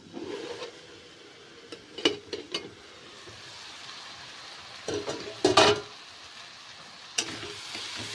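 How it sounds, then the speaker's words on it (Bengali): Cabbage and potato curry is stirred in a pan with a spoon, giving soft scrapes and a few sharper clatters spread over the stretch, above a faint steady sizzle, with no talking. "ভালো করে একটু নাড়িয়ে দেব"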